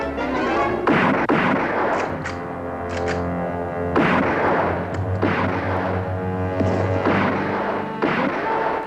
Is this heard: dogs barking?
no